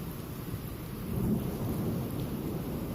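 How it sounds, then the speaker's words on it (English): A low, rumbling boom of thunder from a nearby lightning strike rolls out during a rainstorm, swelling briefly over steady rain hiss. "See if we can hear a loud boom of thunder from that lightning that just struck."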